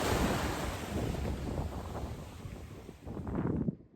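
Ocean surf rolls onto a beach at South Lafroy on Waroora Station, a steady broad wash of breaking waves with wind buffeting the microphone, no voices.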